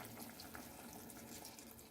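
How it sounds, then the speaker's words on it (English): A soft, continuous stream of liquid slurry running and splashing into a cooking pot, quiet and close, with no talking. "We're going to pour that in there."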